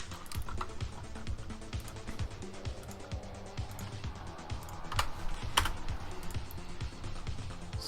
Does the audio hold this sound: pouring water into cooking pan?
no